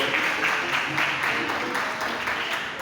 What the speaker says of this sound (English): Oh, give a clap offering unto the Lord.